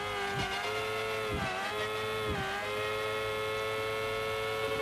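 A video-game car tuned for 300 km/h hums at a high steady engine pitch as it drives onto a jump, with a few brief dips and thumps along the way.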